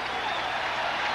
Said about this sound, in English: One of the things that we'll look for today is this extreme crowd noise